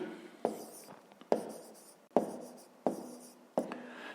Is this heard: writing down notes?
yes